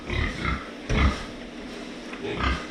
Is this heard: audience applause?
no